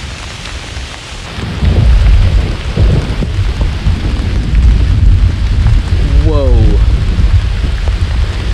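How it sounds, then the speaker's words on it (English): Thunderstorm outdoors at an old farm site in a park, with heavy steady rain and deep rolling thunder growing loud and close; a voice exclaims briefly partway through. "a thunderstorm's coming"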